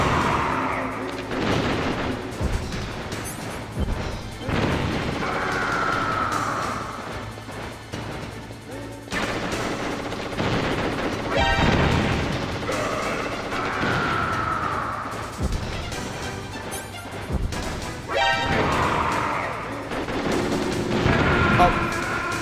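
Repeated bursts of video game gunfire from Metal Gear Solid ring out against a steady backdrop of game music and ambience, with louder volleys scattered through the stretch.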